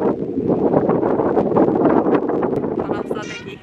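Strong wind buffets the microphone on a seaside coastal drive road, a steady broadband roar that fills the whole stretch, with faint voices beneath it.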